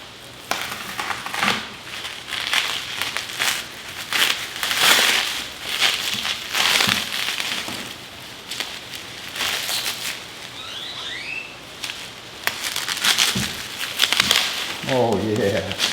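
Packaging for a black-tipped truck exhaust part is cut and pulled open up close, with crinkling plastic, crunching cardboard and rustling, while someone talks throughout.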